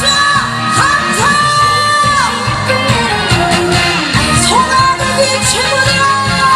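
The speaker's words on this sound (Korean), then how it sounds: "즐거우신 분들 박수 함성." Festival crowd at an outdoor trot concert in Dangjin, cheering and yelling with whoops over loud continuous band music, the shouts sustained and dense throughout.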